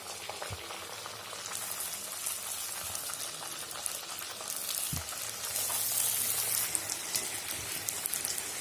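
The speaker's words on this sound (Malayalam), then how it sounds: "ഇനി നമുക്കിത് എണ്ണയിലേക്ക് മാറ്റി കൊടുക്കാം." Puris deep-frying in hot oil give a steady, close crackling sizzle with scattered pops, running throughout with no talk.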